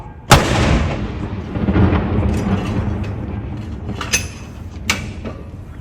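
Royal Artillery guns fire a ceremonial salute at Edinburgh Castle: one loud, close boom opens the clip and rolls into a long echoing rumble, with two sharper, more distant reports following near the end.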